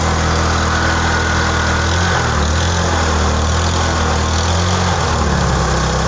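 Close, continuous idle of a flood-submerged Rusi motorcycle engine, a steady low rumble with faint rhythmic wavering and a leaky exhaust, with no voices over it.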